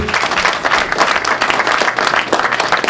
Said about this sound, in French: Est-ce que vous pouvez l'applaudir?